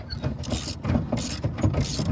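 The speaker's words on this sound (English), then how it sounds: "put the ratchet on there" A hand ratchet wrench turns a bolt on a crashed Ford Ranger being rebuilt, giving a quick run of rhythmic metallic clicks in several bursts, close and fairly loud, with no talking.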